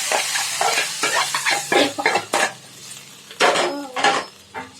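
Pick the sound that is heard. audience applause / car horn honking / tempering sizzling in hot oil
tempering sizzling in hot oil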